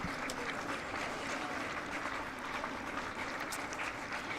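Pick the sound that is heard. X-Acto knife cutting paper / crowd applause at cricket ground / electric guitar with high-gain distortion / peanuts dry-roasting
crowd applause at cricket ground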